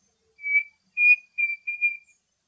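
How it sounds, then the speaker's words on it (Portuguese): A clear, pure whistled call of a pavonine cuckoo: four sustained high notes in a slow rising series, alone in silence. "ao fundo eu ouvi a vocalização do peixe frito pavonino"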